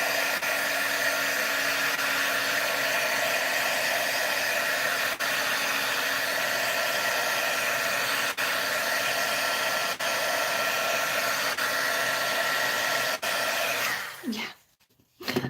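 A hair dryer or heat tool runs steadily at close range, drying a subtle background texture on a handmade card, a constant whirring blow that cuts off near the end.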